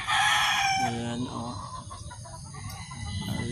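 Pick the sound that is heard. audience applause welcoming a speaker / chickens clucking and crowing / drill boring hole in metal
chickens clucking and crowing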